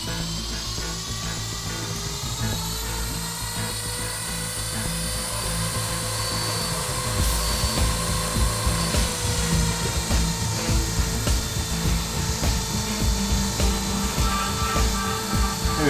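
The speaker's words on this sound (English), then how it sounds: "now we'll go ahead and spool up the helicopter" An E-flite Blade SR RC helicopter spools up, its electric motor and rotor whine building in pitch over several seconds before settling into a steady, close, buzzing drone with pulsing rotor chop.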